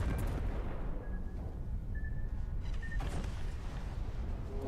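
Torpedo hits on a ship in World of Warships: Legends, heard as a dense, rumbling blast of explosive noise with a couple of brief high tonal pings, loud and sustained throughout.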